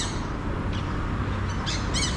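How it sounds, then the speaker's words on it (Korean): Caged parrots heard while walking past a house in Sukhothai, Thailand, give a few short squawking calls, moderately distant, over a steady background rumble of street noise. "새장이구나. 앵무새 같은데"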